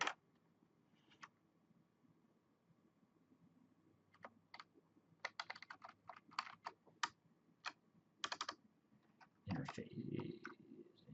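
Typing on a computer keyboard during network router configuration, with scattered close key clicks and short fast bursts that grow busier toward the end, and speech heard briefly alongside.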